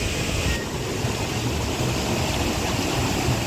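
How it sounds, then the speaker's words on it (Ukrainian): Steady, dense rush of a natural waterfall close by, in Alanya, Turkey, with a restaurant built on it: a continuous broadband roar with no voices. "Це природній водоспад, і от на ньому збудували ресторан."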